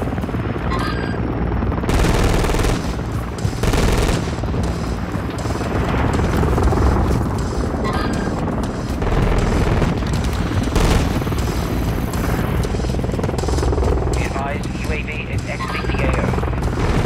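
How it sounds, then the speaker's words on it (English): A friendly helicopter arrives over a Call of Duty: Modern Warfare III battlefield, its rotor throbbing steadily and loudly throughout amid bursts of gunfire and explosions, with radio voices talking over it. "Friendly Overwatch helo inbound."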